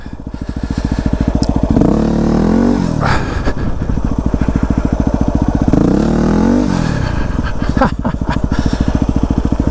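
A Yamaha WR250R dirt bike engine chugs with a rapid, close, loud pulsing beat during a slow wheelie, swelling in two throttle surges before settling back to a low, lumpy putter.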